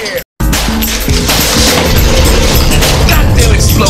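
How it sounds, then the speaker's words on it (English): Video game explosion, a loud booming crash after a brief silent gap, followed by sustained rumbling blast noise filling the rest of the moment. "Goddamn explosion, man!"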